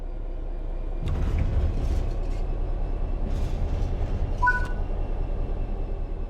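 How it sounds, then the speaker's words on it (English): A train in the Train Sim World 3 video game pulls away under throttle, a low steady rumble of engine and wheels building from quiet and continuing evenly, with brief faint electronic tones partway through. "Apply some throttle to get the train moving."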